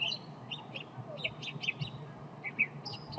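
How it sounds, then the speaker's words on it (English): A small bird chirping outdoors, with repeated short high tweets scattered through a few seconds over a soft steady background hiss. "Just like hearing that little bird"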